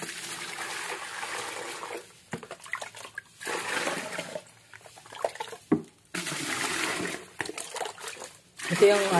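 Water poured into two plastic containers to root cuttings of calabash and miracle fruit, heard as intermittent trickling and splashing bursts separated by pauses, with a voice talking between and over the pours.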